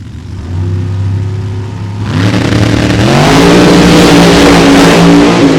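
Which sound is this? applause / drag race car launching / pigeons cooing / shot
drag race car launching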